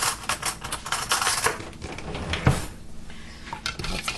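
Cutlery clinking and rattling as an iced-tea spoon is fetched from a drawer in a home kitchen, a quick busy run of close metallic clatters and knocks with no talking.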